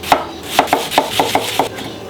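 A knife finely chops onion on a cutting board for moussaka, giving seven crisp, evenly spaced taps at close range with no talk.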